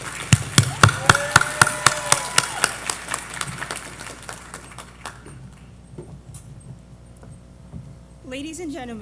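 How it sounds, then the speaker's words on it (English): Audience at a graduation closing celebration claps for two hosts taking the stage, loud rhythmic clapping at first that thins out and fades, followed by a voice near the end. "Please join me in giving them a round warm applause as they grace this stage today."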